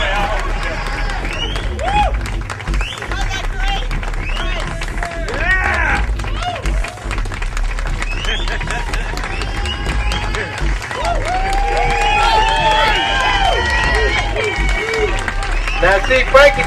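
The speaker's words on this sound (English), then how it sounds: "He's listening to all those hand claps and whistling and things." A large crowd at a Chicago street dedication for a house DJ claps and whistles steadily, with cheering and dense chatter layered throughout in a loud, continuous outdoor roar.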